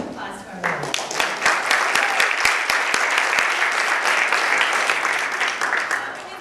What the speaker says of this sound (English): let's also give a big round of applause to our panel